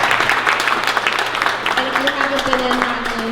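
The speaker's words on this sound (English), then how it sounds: "please give them a round of applause" Applause from a party audience for the evening's food providers, dense clapping throughout with voices talking over it.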